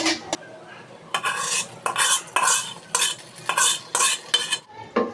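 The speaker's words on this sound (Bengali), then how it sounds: "আরেকটি কড়াই সামান্য তেল দিয়ে এর মধ্যে 2টি শুকনো মরিচ আর ডাল মশলা দিয়ে একটু নেড়ে সবজির মধ্যে দিয়ে দিব" Dried red chilies and dal spice mix get stirred in a little hot oil in a karahi, with a spoon scraping in sharp repeated strokes over a soft sizzle.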